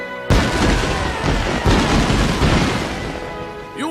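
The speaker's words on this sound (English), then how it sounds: "Now, let's show this town what we've got, Catherine. Time to start this party with a bang!" Fireworks burst during a town celebration in the video game Ni no Kuni, opening with a sharp bang and followed by a dense, continuous crackle and rumble of explosions that slowly fades.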